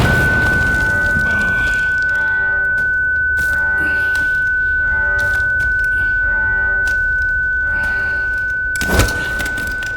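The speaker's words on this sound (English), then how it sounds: "Flashbang!" A flashbang grenade goes off in the S.T.A.L.K.E.R. 2: Heart of Chornobyl video game, leaving a steady high-pitched ringing over muffled, dulled ambience throughout, with a short thump near the end.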